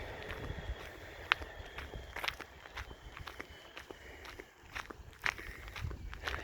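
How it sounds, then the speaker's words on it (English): Footsteps in flip-flops crunch on gravel beside a lake, a steady series of soft scuffing steps with a few sharper crunches, fairly close, against a quiet outdoor background with no speech. "You can probably hear my flip-flop"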